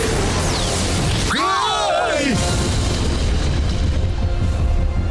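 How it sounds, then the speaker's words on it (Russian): A heavy boom with a sweeping, warbling blast that swells and fades over dense, continuous background noise: a cartoon plasma-blast energy explosion from the animated series Redakai. "Плазменный взрыв."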